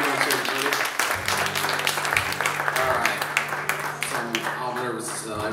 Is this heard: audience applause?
yes